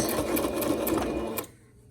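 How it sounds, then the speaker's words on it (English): A sewing machine runs a short line of stitches with a loud, close, rapid mechanical whir, then stops abruptly after about a second and a half. "Then just take your sewing machine and put a stitch across here and a stitch across here."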